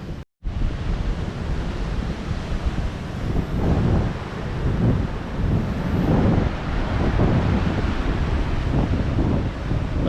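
Sea waves wash against an eroding coastline where an electric post stands in the water, as rain approaches. The surf gives a continuous rumbling roar with gusty wind buffeting the microphone, and nobody speaks.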